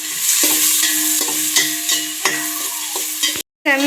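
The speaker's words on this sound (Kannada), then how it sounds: "ಹಸಿಮೆಣಸಿನ್ಕಾಯಿ, ಈರುಳ್ಳಿ, ಹಾಕೊಂಡು ಫ್ರೈ ಮಾಡ್ಕೊಳ್ಳೋಣ." Green chillies and onions frying in a pan with curry leaves, a bright sizzle broken by repeated scraping stirs, close and loud, ending in a short clatter.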